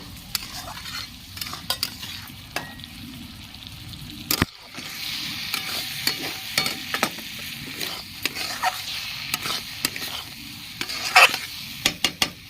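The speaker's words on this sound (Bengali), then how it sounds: "ভালো করে নেড়ে নিচ্ছি" Ash gourd curry with fried prawns stirred in a pan, a ladle scraping and clinking at an irregular rhythm over a steady sizzle, close and clear with no talking.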